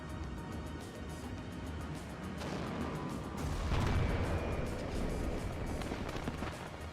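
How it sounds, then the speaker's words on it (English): Ammunition cooking off in the video game WARNO: a dense, continuous roar of crackling bursts and deep booms, with the rumble swelling louder midway and staying heavy to the end. "Listen to the ammunition cook-off."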